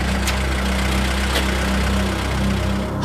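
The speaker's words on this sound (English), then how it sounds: "The sound of another vehicle approaching." A vehicle engine runs steadily with a low idling rumble, holding a near, even level throughout without voices.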